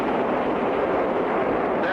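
Open water rushes over huge boulders in dangerous rapids in an adventure cartoon, heard as a loud, dense, unbroken roar that stays steady throughout.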